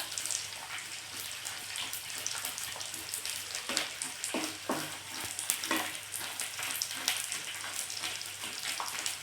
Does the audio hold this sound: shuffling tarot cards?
no